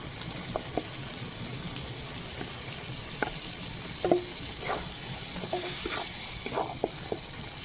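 Mashed boiled potato being stirred into ghugni, a spiced pea curry, frying in a pan: a continuous close hiss of sizzling oil with scattered light clicks and scrapes of the spoon, no talk.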